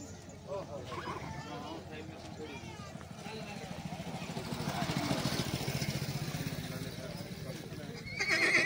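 Horses at a crowded Mahendragarh horse fair, with whinnies and neighs rising over steady hoof clatter and a busy crowd murmur, growing louder toward the end amid people talking.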